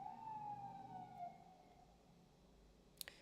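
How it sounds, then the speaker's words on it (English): An ambulance siren passes outside, faint and distant, its wailing tone gliding slowly downward under a quiet room background. A brief tap is heard near the end. "This damn ambulance."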